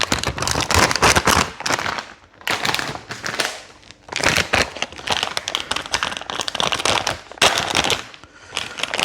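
A plastic bag holding a VP 804 bicycle tire is crinkled and crushed by hand, giving loud bursts of crackling that come in waves with short quieter gaps.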